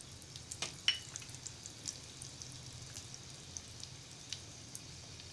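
Asafoetida (hing) dropped into hot oil for a tempering in a Malvani crab curry gives off a faint, steady sizzle with light scattered crackles and pops throughout, no talking.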